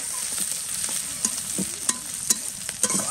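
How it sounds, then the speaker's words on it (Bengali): Chopped onion sizzling in hot oil with cinnamon and cardamom, a steady close crackle broken by several sharp scrapes of a stirring spoon against the pan. "এখন হচ্ছে পেঁয়াজ কুচি দিয়ে দেব। সেটা কিন্তু ভালো করে ভেজে নেব।"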